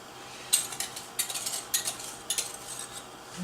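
A utensil stirs a banana pudding mixture of eggs and granulated sugar in a pot, giving light, irregular metallic clinks and scrapes against the pot, close and fairly quiet.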